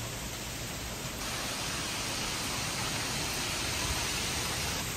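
Heavy rain from a thunderstorm pours down steadily as a dense, even hiss, loud and close, with no talk.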